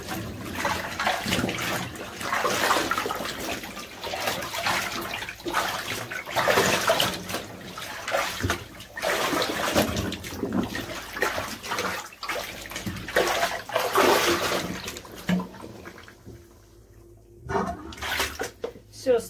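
Water gushes and splashes out of a washing tub in uneven surges as it drains after washing a camel-wool blanket, with a person talking intermittently over it.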